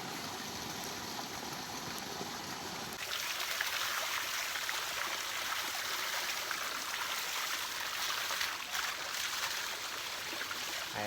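A cool stream flows during an evening bath, a broad continuous rushing and trickling water sound that grows fuller and closer after a few seconds.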